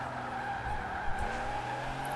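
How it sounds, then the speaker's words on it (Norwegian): Tires squeal steadily as a car drifts in Fortnite, a sustained skidding screech with engine drone underneath, moderately loud and without talk. "Kanskje jeg får den til å drifte litt den i hvert fall."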